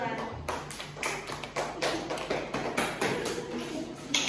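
A classroom of students gives applause for a presenting group, a close, steady patter of many hands clapping throughout, with faint voices mixed in.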